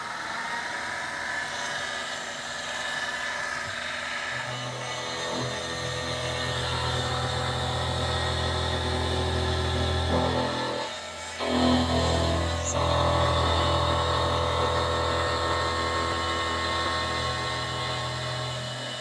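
A SIEG SX2LF HiTorque benchtop mill runs steadily with a tonal motor whine and cutting chatter, its pitch shifting as passes are made on a workpiece clamped in a vise, with a brief dip midway.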